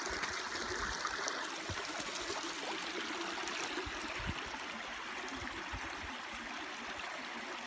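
Creek water runs and trickles steadily and close by, a continuous bright wash with small splashy surges where a dog plays in the shallow stream, no voices heard.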